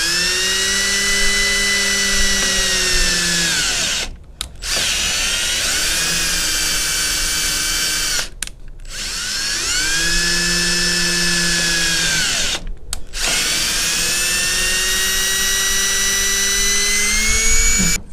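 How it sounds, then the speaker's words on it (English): A power drill drives a screw into a stake in long continuous high whines, stopping briefly three times before each new run, loud and close with no talking. "use a drill, you want to take it nice and slow so you don't snap the screw off"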